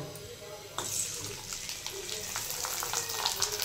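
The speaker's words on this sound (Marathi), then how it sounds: "आणि मी इकडे पापड फ्राय करते आहे बघा. तर बघते ना हा कसा फ्राय होतो" Papad frying in hot oil in a home kitchen, a steady crackling sizzle that starts abruptly after a brief quiet moment and continues throughout, close and fairly loud, with faint background noise.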